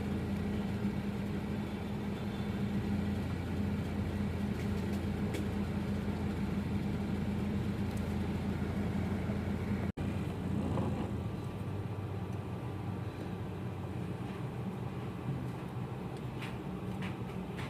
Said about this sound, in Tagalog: Sobrang traffic, guys.